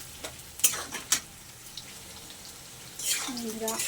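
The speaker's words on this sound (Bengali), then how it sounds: "এবারে দিয়ে দেবো আলু। আলুটা আর একটু ভালো করে পেঁয়াজের সঙ্গে লাল লাল করে ভেজে নেব।" Potatoes fry with chopped onion and chilli in oil, with a few sharp stirring clacks at first, then a low steady sizzle that swells near the end, heard close.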